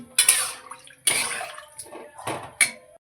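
Water splashes into a pan of lightly fried potatoes for a thin fish curry with drumsticks, heard as a few short pours and splashes close by, with quiet gaps between them.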